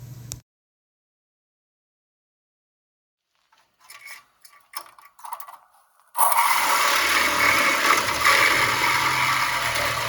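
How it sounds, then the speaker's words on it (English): A Sawzall reciprocating saw cuts through the rusty frame rail of a 1965 Ford Falcon, starting after sporadic scrapes and knocks and then running as a loud, continuous rasping buzz close by. "I absolutely despise a Sawzall."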